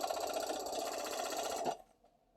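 A sewing machine stitches a leg band on a sweater romper in one steady, close, rapid run of needle clatter, then stops abruptly and leaves near silence.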